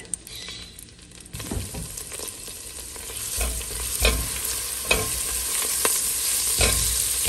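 Three good-sized garlic cloves sizzle steadily in about two tablespoons of hot oil for a garlic pasta, with a continuous close hiss and several soft thumps and scrapes of stirring.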